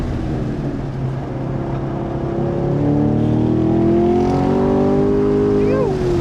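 A 2023 Chevrolet Camaro SS 1LE V8 drones loudly on a race track. Its engine note climbs steadily under acceleration as the pitch rises, then briefly dips near the end, heard close and continuous.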